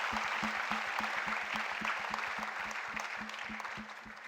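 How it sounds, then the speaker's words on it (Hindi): Audience applause at the Kargil Vijay Rajat Mahotsav celebration on the BITS Pilani KK Birla Goa campus: a steady wash of crowd clapping with an evenly pulsing low thump underneath, fading slightly toward the end. "इनके लिए तालियां हो जाए."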